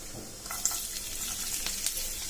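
Cumin and garlic hit hot oil in a kadai, a steady close sizzle and crackle of frying with a few sharper pops while stirring.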